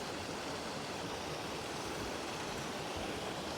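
Steady roaring rush of a waterfall heard from right on top of it during a hike, broadband and constant, close by with no breaks or voices.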